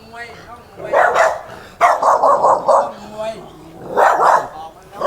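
Dogs bark in several bursts at a bar in Pattaya, Thailand, fairly close, with a quick run of barks in the middle and another outburst near the end.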